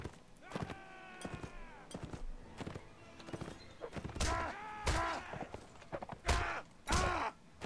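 Horse hooves from a Mount & Blade battle clop in uneven beats, mixed with whinnies, thuds and clashing noises of close melee, fairly loud and close, with scattered voices.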